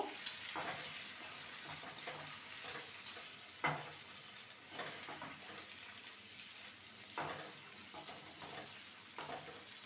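Egg being stirred into onion and green chilli frying in a pan, with a steady soft sizzle and occasional scrapes and clinks of the spatula, close and alone without talk.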